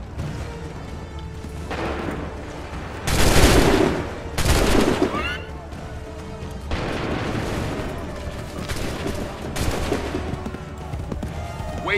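A musket volley roars out in Assassin's Creed 3, with a sharp burst of massed gunfire followed by a second blast and lingering crackle over game ambience, while voices call out orders around it.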